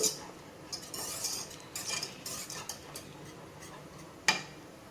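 Thick fenugreek kali is stirred in a pot. Soft scraping and clicking come in short, uneven bursts, ending with one sharp utensil clink near the close.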